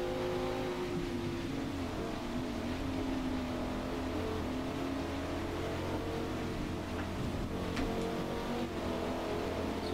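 A Dodge Viper and other race cars on the Maple Valley circuit in Forza Motorsport drone and rev steadily, engine tones sliding as they accelerate, continuous and fairly loud with no voices.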